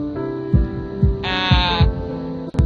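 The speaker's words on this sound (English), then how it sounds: "The sound of heartbeats makes me very uncomfortable and tense up." Heartbeat effect in the visual novel Katawa Shoujo: deep, regular thumping pulses about every half second under a sustained tonal drone, with a brief bleating synth tone layered over the middle, loud and close.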